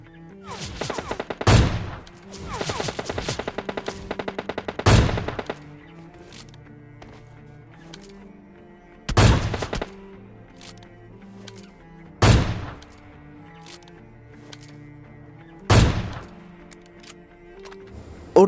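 Gunfire in the PUBG Lite video game, with a rapid automatic burst followed by several isolated loud shots spaced a few seconds apart, each ringing out over a quiet background.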